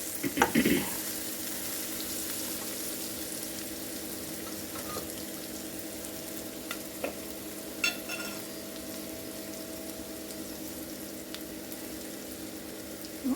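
Dried fish frying with chili powder in a pan for a tamarind-leaf dried fish curry: a quiet, even sizzle runs throughout, broken by a few soft clicks and scrapes of stirring.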